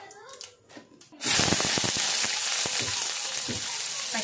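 Tempering seeds drop into hot oil and burst into a loud, continuous sizzle with scattered crackling pops, preceded by a quieter moment of handling before the hiss begins.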